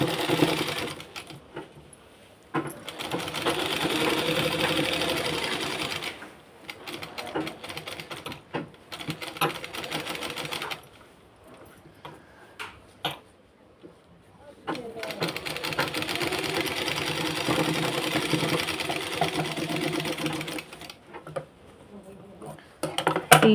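Sewing machine stitching the lining of a blouse, running in long steady bursts with short pauses between runs, close and clear, while someone talks over it.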